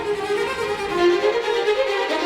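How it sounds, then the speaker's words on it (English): Orchestral strings play a brief, forceful opening gesture from the piece Sound and Fury, a sustained, agitated bowed passage with wavering pitches, loud and close. "The opening of Sound and Fury begins with an angry gesture from the strings that sounds like this."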